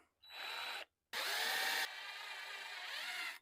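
A power drill whines in two bursts, a short one, a brief pause, then a longer steady run boring a 1/4-inch hole through material, close and loud.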